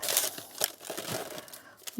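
A plastic gift package crinkles and rustles as it is handled, in short, close, irregular bursts of crackling over about two seconds.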